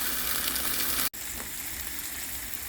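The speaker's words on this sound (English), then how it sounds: "the shrimp are cooking" Shrimp cook on a griddle beside steak, giving an even, close frying hiss that cuts out for an instant and then carries on without talking.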